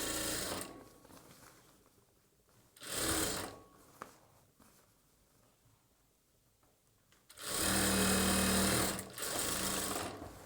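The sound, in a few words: sewing machine double stitching churidar bottom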